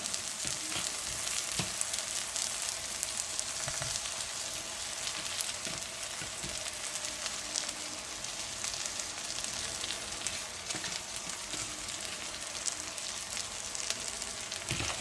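Crushed, washed moringa leaves fry in a pan with a faint, even hiss and scattered small crackles, quiet and steady throughout.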